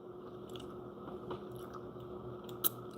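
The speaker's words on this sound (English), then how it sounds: "Well, I be chewing these motherfuckers." Someone chews food close to the mic, faint soft bites and squishy mastication repeating irregularly over a low steady background hum, with one sharper crunch near the end.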